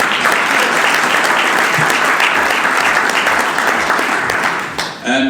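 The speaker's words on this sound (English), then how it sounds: "let's have a round of applause for the live audience" A live podcast audience at a retail tech summit applauds loudly and steadily for about five seconds, a dense wash of many hands clapping close by before it tapers off.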